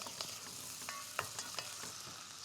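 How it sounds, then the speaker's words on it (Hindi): New Zealand lamb loin, diced, sautés in a pan. A steady broad sizzle carries faint clicks of a utensil against the pan, with a few louder scrapes, and no one speaks. "Let's saute the lamb."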